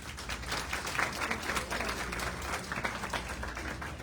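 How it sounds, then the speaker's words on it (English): A faint round of audience applause for a guest named Sue, dense clapping from a small crowd heard at a distance, steady for a few seconds. "let's give Sue a round of applause"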